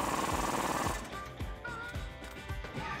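A 21 mm socket on an extension tightens a flag nut while a Rubicon Express 2.5-inch coil spring lift kit goes onto a Jeep Wrangler JK Rubicon, with a harsh mechanical burst followed by a series of rapid rattling clicks up close.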